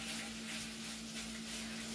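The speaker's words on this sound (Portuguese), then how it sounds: "vamos dourar essa carne." Beef browning over medium-high heat in hot melted butter in a pan gives a steady, dense sizzle with constant crackle and hiss, with a faint electrical hum underneath.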